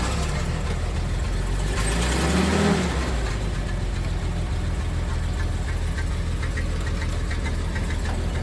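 A WWII Dodge WC51 military truck engine runs loud and close, with a rough, knocking idle and a short swell partway through before it settles back into a steady rumble.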